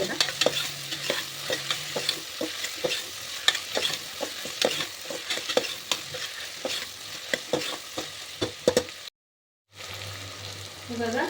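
Vegetables and chillies sizzle and crackle in hot oil for upma while a utensil stirs and scrapes repeatedly, close by; the sound briefly cuts out near the end.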